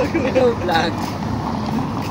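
A motorboat speeds by on open water, a loud rushing wash of spray and wind with a brief engine whine, heard close up and mixed with people talking.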